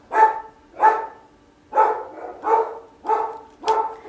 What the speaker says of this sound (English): We're just going to have to deal with the dogs barking because I'm the only one here.